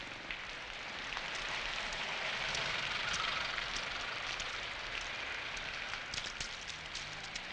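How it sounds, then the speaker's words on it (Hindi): Steady rain falling, a constant broad hiss with scattered drop ticks that holds evenly throughout, with no voices. "काशीनाथ बारिश में कहाँ जा रहे हो?"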